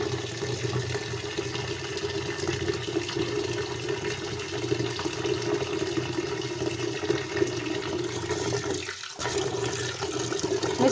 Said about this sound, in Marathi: आता ह्याच्यात मी पाणी भरून ठेवणार आहे, गहू बुडेल एवढं पाणी ठेवायचं आहे।